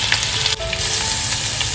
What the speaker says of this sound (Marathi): इकडे कडेमध्ये तेल घालून घेतलंय फोडणीसाठी आपण राई घालून घेतोय